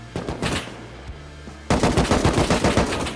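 Gunfire in the survival video game Rust, a short burst of shots followed after a pause by a loud, rapid automatic volley of about a dozen cracks, close and dominant.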